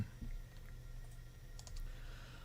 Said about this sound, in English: Just clicking a few things here and we'll be ready to go.